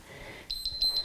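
Workout interval timer beeping during a home dumbbell session, a quick series of four short, bright electronic beeps in a steady rhythm, close and fairly clear with no talking.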